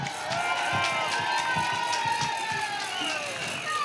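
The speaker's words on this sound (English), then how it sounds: "Big round of applause, Tonya Buxton." Outdoor crowd at an anti-ULEZ rally in Trafalgar Square cheering and applauding, a dense, steady roar of claps and voices that stays loud throughout, with whistles and traffic-like noise mixed in.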